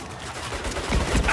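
Gunfire in the third-person shooter Saints Row (2022), a dense rattle of rapid shots that thickens into louder bursts toward the end, with no talk over it.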